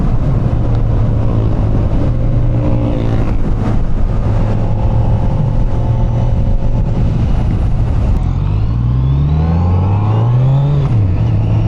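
A 2025 Kawasaki Z900 SE motorcycle cruises in sixth gear with a loud, close, steady engine drone, then the revs dip and climb again toward the end.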